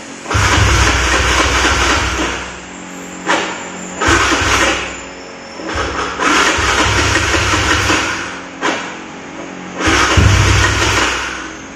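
A car engine that has not run for two days cranks and fires several times. Each start is a loud, rough burst of revving, separated by short dips, with no talking.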